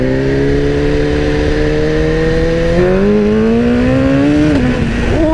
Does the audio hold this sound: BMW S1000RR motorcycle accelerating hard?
yes